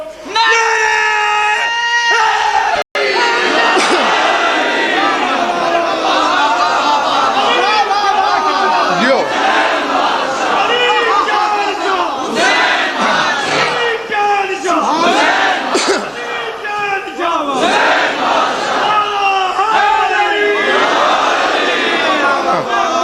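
Majlis audience at a Muharram gathering shouting religious slogans together, a loud, dense crowd roar with overlapping voices rising in waves and sustained for a long stretch.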